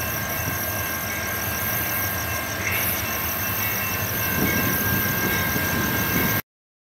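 A CSX freight train, Q452-24, approaches with a steady, loud rumble of rolling wheels and engine, a constant high whine running over it until it cuts off abruptly.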